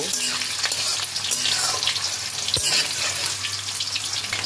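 Potato pieces fry in hot oil in a pan for a mixed vegetable curry, a steady close sizzle with stirring movements and a low hum underneath.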